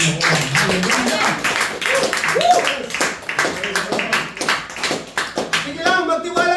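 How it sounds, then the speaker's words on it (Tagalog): A church congregation claps in a fairly steady rhythm during a sermon, sharp and close, while people call out and speak over the clapping. "Palakpak sa Panginoon."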